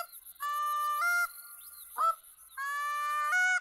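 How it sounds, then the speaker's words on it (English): Geese honking in a hunting video game: loud, close, repeated nasal honks in two bursts, with a brief squawk between them and a high background hiss. "the geese are fantastic, and they will eventually come in. They're making their rounds right now."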